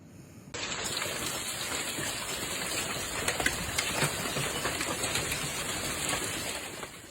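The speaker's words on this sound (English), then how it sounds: "Rain is literally going sideways." Heavy rain blowing sideways during a giant hailstorm in Calgary, Alberta, a dense, continuous roaring hiss that stays loud and steady throughout, with no voices.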